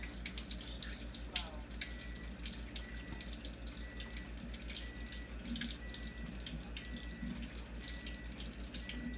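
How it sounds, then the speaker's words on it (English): A water ionizer tap runs continuously as it dispenses strong acidic water, a steady close hiss of flowing water with faint background hum throughout. "Sometimes you have to run the strong acidic water for a few to get what you're looking for"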